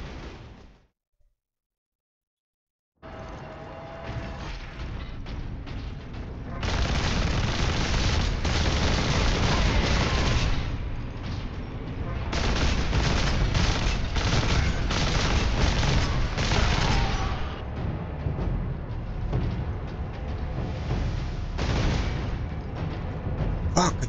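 Heavy lascannon fire and explosions from the Warhammer 40K: Space Marine game roar in a dense, continuous barrage after a short silent gap, with faint speech underneath.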